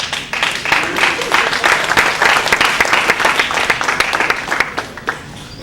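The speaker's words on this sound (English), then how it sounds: "Clap it up for Father Ben." A church audience gives close, lively applause for a priest, with distinct individual hand claps in a quick, uneven patter over a steady crowd bed.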